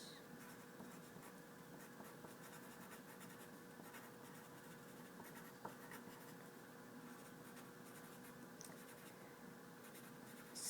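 A pen writes across a tax form in a quiet ASMR tax lawyer role play, giving a soft, steady scratching that runs through the whole stretch with no talking.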